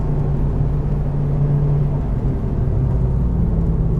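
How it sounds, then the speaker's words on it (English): Mercedes-AMG A 45 or CLA 45 with four-wheel drive braking hard into a long corner on a track, its engine a steady, loud low rumble and whir throughout with no voices. "180, braking hard for this long corner."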